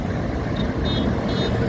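Steady road traffic on National Highway 48 near a toll plaza, a continuous close rumble of passing cars and trucks with a few faint high horn toots mixed in.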